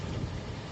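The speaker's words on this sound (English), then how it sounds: "It's pouring rain." Heavy pouring rain at a late-night moving food stall in China, a dense steady wash of noise from close by with no gaps, no voices present.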